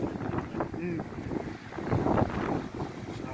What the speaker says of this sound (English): just got a boat coming in behind us